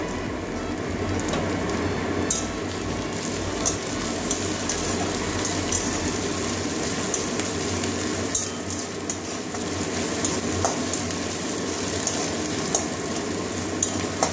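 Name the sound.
ginger and garlic sizzling while being sautéed in a pan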